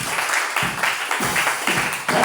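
A church congregation claps in a steady rhythmic beat, loud and close, the claps continuing evenly throughout.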